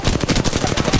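Rapid video game gunfire rattles in quick bursts, loud, dense repeated cracks like automatic weapon fire filling the whole moment without talk.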